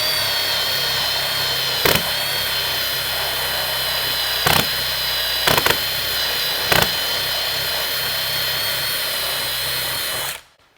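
A rotary brush from an Amazon kit strips paint from around a huck head on a Peterbilt 359 restoration, giving a steady, loud high-pitched whir that runs for about ten seconds with a few brief clacks before stopping abruptly.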